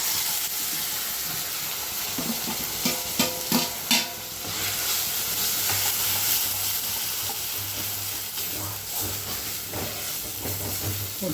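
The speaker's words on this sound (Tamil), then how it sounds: "இது அப்படியே வதங்கட்டும்" Onion and ground masala paste sautéing in a pan for Tamil-style crab masala, a steady close sizzle and hiss with a few scraping stirs and clinks, no voices.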